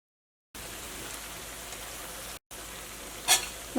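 Snack pieces frying in hot oil on a home stove, a steady, even sizzle running throughout with a brief break and a sharper crackle near the end, close and moderately loud, with no voices.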